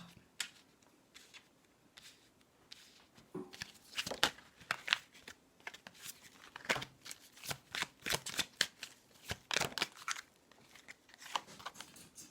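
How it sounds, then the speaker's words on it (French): Tarot cards shuffled and drawn during a reading, giving a run of crisp papery riffles and slaps in uneven bursts, close and fairly quiet, with no talking. "Allez, je vais tirer une autre carte."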